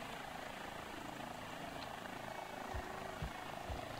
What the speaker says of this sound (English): Oh, look at this little helicopter here.